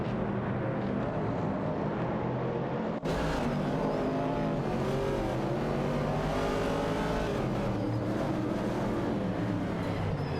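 A 1970 AMC Javelin and a Ford Falcon race in a video game, with engines droning and revving continuously, loud and close, after a sudden cut a few seconds in.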